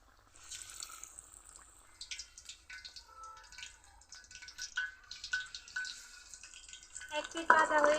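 Battered pumpkin leaf rolls fry in hot oil, a soft bubbling crackle running under quiet talk and growing louder and more active toward the end.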